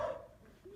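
Dogs barking indoors, heard as one short, muffled bark or yelp at a distance before the sound fades out.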